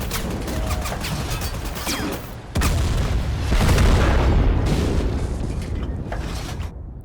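Heavy booms from a 73mm gun firing at a Humvee in the video game Total Conflict: Resistance, a loud blast followed by a sustained rumbling roar and crackle.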